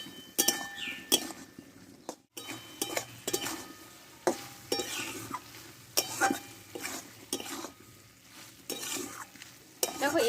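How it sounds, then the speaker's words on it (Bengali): A spatula scrapes and knocks in a pan as Malabar spinach cooked with a fish head is stirred, with irregular metallic clinks and scrapes over a gentle, continuous sizzle, close up, with no one speaking. "আমি কিছুক্ষণ নাড়াচাড়া করে আমি নামিয়ে নেব।"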